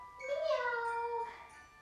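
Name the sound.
person imitating a cat's meow during yoga exhale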